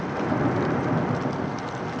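Heavy rain pours steadily during a thunderstorm in Iberian vulture habitat, with a dense, loud hiss of falling water and rumbling thunder blended in, continuous and without voices.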